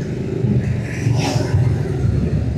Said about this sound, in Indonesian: Ini ya, truk pasir,